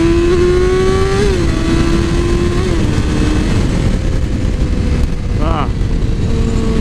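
A 2007 Yamaha R6 sport bike rides and revs, its engine note climbing and dropping through downshifts with rev matching, loud and steady throughout with a brief higher whine near the end.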